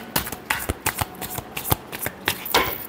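Tarot cards being shuffled by hand, a rapid series of crisp riffling bursts and slaps, close and fairly loud, with no voices over them.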